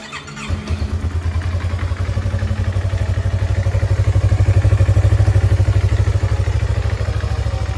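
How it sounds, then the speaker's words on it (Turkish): A Yamaha R25 motorcycle with its stock exhaust starts cold and idles steadily nearby, a rapid throbbing exhaust pulse with mechanical clatter, running alone without any talk. "Orijinal egzozla sesi böyle."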